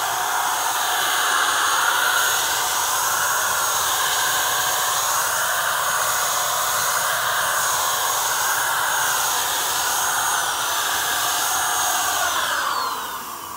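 A paint spray gun spraying paint gives a steady, loud airy hiss that runs unbroken for several seconds and tapers slightly at the end, with no talking over it.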